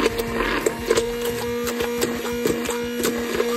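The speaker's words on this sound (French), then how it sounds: "je vais utiliser un batteur à main rapide, comme ça. Puis, je vais blender mon blanc d'œuf" A fast handheld electric mixer beats egg whites in a bowl, with a steady motor hum and a rapid rhythmic ticking of the beaters running close and loud throughout.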